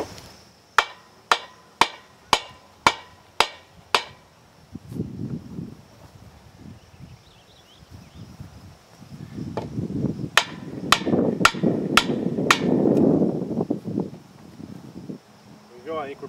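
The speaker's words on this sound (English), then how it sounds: "just get a board and a sledgehammer and just tap it over a little bit" Sledgehammer blows tapping a board against the axle of a homemade cultipacker, eight sharp evenly spaced metallic knocks, then a later burst of six more strikes over rustling and low handling noise.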